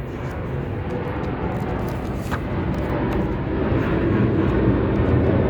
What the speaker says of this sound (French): On va laisser passer l'avion tranquille.